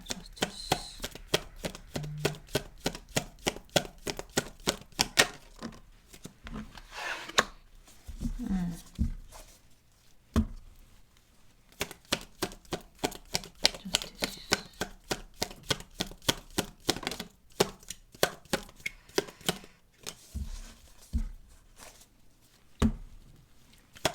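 Tarot cards shuffled and drawn by hand, a long run of quick, rhythmic slaps and riffles close to the microphone with short pauses and a person talking between them.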